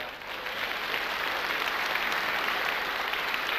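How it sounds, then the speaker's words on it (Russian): Comedy show audience applause, a dense steady wash of many hands clapping that swells in and holds at an even level throughout. "Вот тут уже могут быть аплодисменты"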